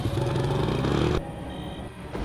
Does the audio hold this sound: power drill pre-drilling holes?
no